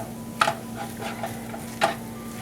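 A spoon stirs salt and pepper into food in a pot for lasagna, making soft scraping swirls with a couple of sharper clinks against the pot over a steady background hum, no talk.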